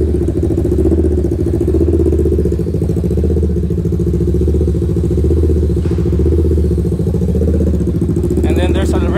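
A Kawasaki Ninja 650 fitted with DRIFT XAUST mufflers, two working mufflers and a resonator idles with a steady, deep, rumbling exhaust close by while someone talks over it.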